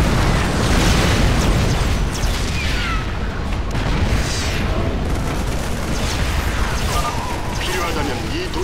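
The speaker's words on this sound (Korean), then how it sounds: "미사일 발사!" Missile launches and explosions from a StarCraft II campaign battle form a dense, continuous roar of booms and bursts, loud and close throughout, layered with game effects and occasional voice lines.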